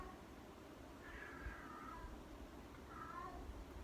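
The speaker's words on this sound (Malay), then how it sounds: "Ni suara kucing jantan ni." A male cat meows twice in the distance, with faint drawn-out cries heard over steady room noise and no speech.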